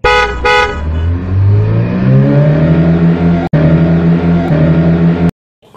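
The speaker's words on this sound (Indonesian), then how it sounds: "Bus Tayo warna biru." A blue Tayo bus engine revs up after two short horn toots, its pitch climbing and holding steady, loud and close, then stopping abruptly near the end.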